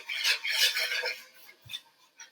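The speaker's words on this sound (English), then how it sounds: "we are going to just keep whisking" A whisk stirs cocoa powder into warming milk, giving quick bright scraping and clinking strokes that are loud at first, then fade to sparse lighter taps.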